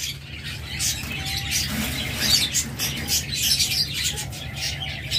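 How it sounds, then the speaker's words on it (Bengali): Diamond doves in a bird shop with a large flock present, giving soft cooing mixed with busy chirps and wing flutters, close and continuous, no talking. "হিউজ পরিমাণ ডায়মন্ড ডাব রয়েছে"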